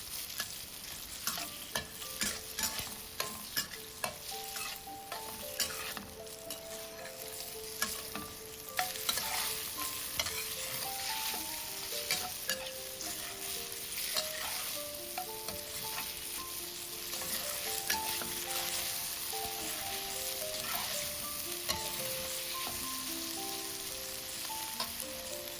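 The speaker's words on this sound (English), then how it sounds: "Stir fry until the pork gets brown." Diced pork stir-frying in a pan for a Chinese mushroom noodle sauce: a steady sizzle broken by frequent sharp clicks and scrapes of a spatula, close by, with soft melodic music underneath and no speech.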